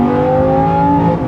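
Lamborghini Gallardo V10 with a single-clutch transmission, roaring steadily under hard acceleration with a rising, sustained engine note that stays loud and close throughout.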